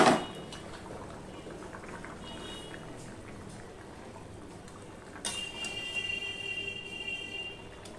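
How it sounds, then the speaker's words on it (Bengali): Katla fish curry with okra and potatoes bubbles gently in a pan, a soft steady simmer with a clatter at the start and slightly livelier bubbling later on. "ঝোলটা ফুটে উঠেছে"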